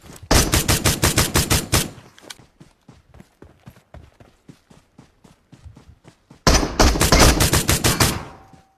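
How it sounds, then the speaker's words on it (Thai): Rapid automatic gunfire in PUBG Mobile, with two loud sustained bursts at the start and end and quieter single shots and footstep-like clicks in between, no talking. "ฝึกยิงได้นะมันยิงง่าย"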